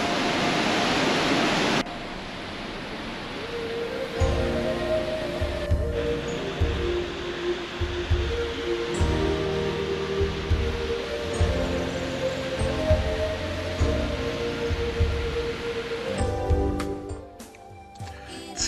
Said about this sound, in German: Zweihunderttausend Liter Wasser fließen dort jede Sekunde runter.